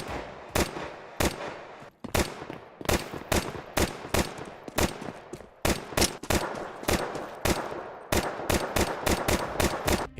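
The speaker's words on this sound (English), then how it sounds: "echo from shots now depend on whether shots take place indoors or outdoors" Gunshots in Counter-Strike 2 ring out in quick bursts and single shots, some with a longer echoing tail as if indoors, others drier as if outdoors, loud and close with no talking.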